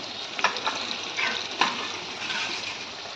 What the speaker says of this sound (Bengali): আমি তেল দিয়ে দিয়েছি, তার মধ্যে আলু সেদ্ধ হালকা সেদ্ধ করে ভেজে নিচ্ছি